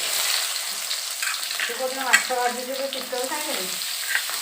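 Onions frying in a pan of oil, a steady broadband sizzle with some scraping and faint tonal sounds in the middle, no talking.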